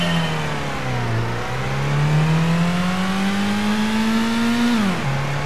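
A Mazda 121 engine in the Gran Turismo racing game revs steadily and loudly, its pitch climbing slowly through a gear before dropping sharply near the end, a continuous buzzing drone with no talk.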